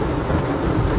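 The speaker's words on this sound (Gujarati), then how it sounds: "વરસાદ આવે છે ફૂલ" Heavy rain pours down steadily with thunder rumbling low underneath, a dense, loud wash of rainfall around Bortalav lake in Bhavnagar, with no voices.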